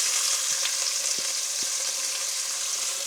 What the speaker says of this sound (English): So we're going to go in with our onion.